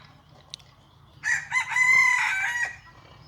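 A village rooster crows once as free-range chickens are released, a loud close cock-a-doodle-doo lasting about a second and a half, preceded by a faint cluck.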